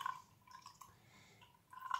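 Homemade orange juice is poured in faint, short trickles and drips, quiet liquid splashes that start, pause and resume close by.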